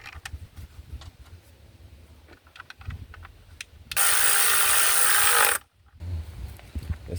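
A ratchet tightens intake manifold bolts on a 2006-2010 Hyundai Sonata 3.3L engine, giving scattered light clicks and then a loud, continuous burst of about a second and a half, close by and without talk.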